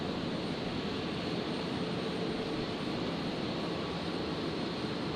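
A jet aircraft arriving on runway 01 right at Brisbane Airport gives a steady, broad engine roar, continuous and moderately loud at a distance with no break.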